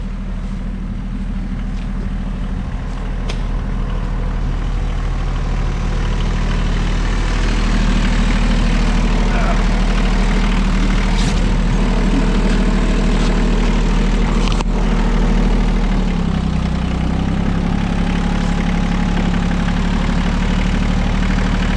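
Tractor engine running steadily while dragging tree limbs on a large property, a loud, continuous low rumble close by that rises a little in pitch partway through.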